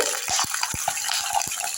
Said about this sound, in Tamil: கொஞ்சம் சலசலப்பு அடங்கிடுச்சு பாருங்க அந்த ஈர இருந்ததுனால